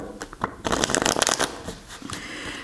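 Tarot cards being shuffled by hand, a close, crisp run of riffling and sliding lasting a couple of seconds, fairly quiet and with no talking.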